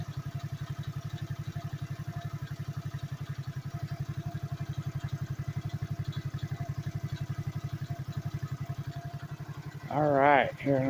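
A Phatmoto motorized bike engine idles close by with a steady, rapid putter that runs unbroken for about ten seconds, then a short burst of other noise near the end.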